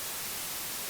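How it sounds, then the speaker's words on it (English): Low-amplitude white noise generated in SuperCollider, a steady, even hiss playing in both channels with no variation. "we'll just hear white noise in both channels"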